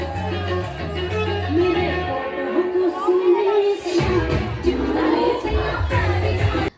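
Large crowd at a village wedding procession in India, a dense murmur of many voices with shouts, mixed with rhythmic music and drumming throughout.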